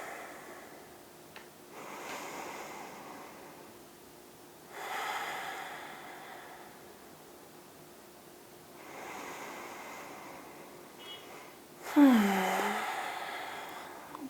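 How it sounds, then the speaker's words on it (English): Slow, deep breathing during a hatha yoga session, with long drawn inhales and exhales spaced several seconds apart, close and fairly soft, ending with a short voiced sound. "taking a few deep breaths"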